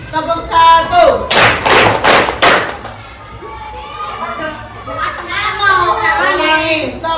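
A class of children claps together in a quick burst of about four sharp, loud claps, with children's chatter and a teacher's voice before and after.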